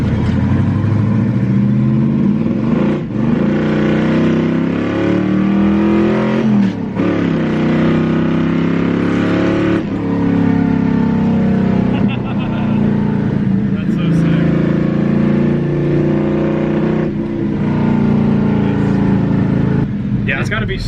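A race car engine idles and revs up and down in repeated throaty surges. It stays loud and close throughout while several people chat excitedly over the rumble.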